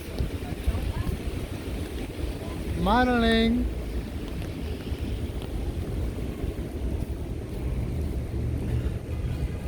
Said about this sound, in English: Because of heavy windy rain.